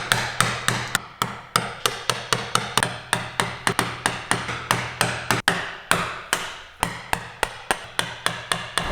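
A mallet strikes a chisel again and again, chopping a wedge-shaped mortise cavity in wood for a joint practice frame. The blows are sharp, close and steady at roughly two to three per second, with no talking.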